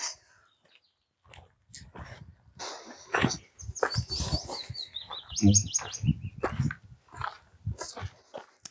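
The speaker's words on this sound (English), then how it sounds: "birds are singing, the trees are blooming." Birds chirp and whistle in bright, scattered bursts outdoors in a Scottish forest in spring, with some low rustling and faint voices between the calls.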